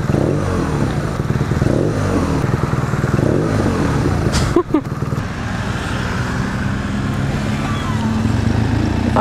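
2016 BMW R1200R motorcycle engine revving on a street, a loud close throaty growl with a sharp clattering burst midway, continuing to rumble throughout.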